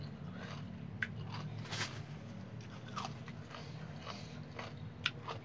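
Close, crisp bites and crunching as someone eats rice-field snails with a spicy Thai pounded bean salad, with a few sharp crunches standing out over a steady low hum and no talk.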